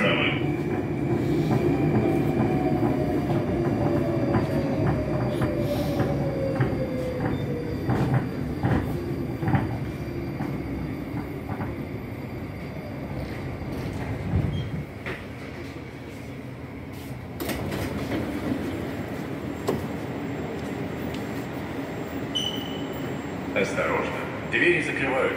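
Moscow metro train on the Big Circle Line rolls along with a steady loud rumble and rising and falling motor whine, wheels clattering on rails, with announcements heard over the noise inside the carriage.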